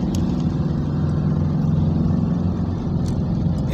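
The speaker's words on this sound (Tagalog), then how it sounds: "Ito ang sitwasyon ng traffic ngayon mga idol." Slow city street traffic in Manila behind an oil tanker truck, a steady low engine rumble and road drone with vehicles idling and creeping along, fairly close and continuous throughout.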